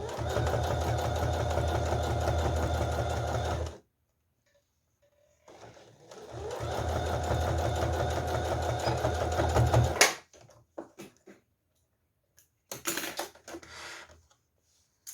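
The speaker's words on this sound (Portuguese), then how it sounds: "Vai costurando bem devagarzinho." A sewing machine stitches a zipper onto fabric in steady, fast bursts of mechanical needle chatter, stopping for pauses between runs, followed by brief clicks and handling noises.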